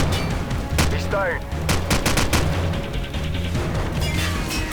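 Rapid AK rifle gunfire in Call of Duty 4: Modern Warfare, loud repeated shots and bursts in a busy in-game battle mixed with other game effects and someone talking over it.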